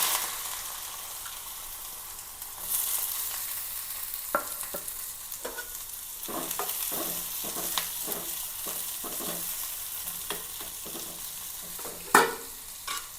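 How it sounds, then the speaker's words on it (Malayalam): Soft steady sizzle of onion frying in hot oil in a pan, with repeated scraping stirs of a spatula and a louder clatter near the end. "ചട്ടി വെച്ചിട്ടുണ്ട് എണ്ണ ഒഴിച്ചിട്ടുണ്ട് എണ്ണ കാഞ്ഞിട്ടുണ്ട് ഇതിലേക്ക് കുറച്ച് സവാള ഇട്ട് കൊടുക്കാം"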